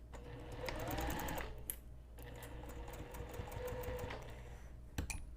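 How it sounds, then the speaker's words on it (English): Sewing machine stitching a curved fabric piece laid face up on its bed, running in two steady bursts of rapid mechanical whirring with a brief pause between, close and clear. "sew with my curved piece face up on the bed of my sewing machine"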